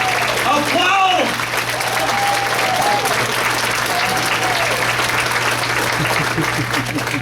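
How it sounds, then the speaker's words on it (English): An audience at a training session breaks into loud, sustained applause, dense clapping filling the room with some cheering and voices mixed in throughout. "Applaud."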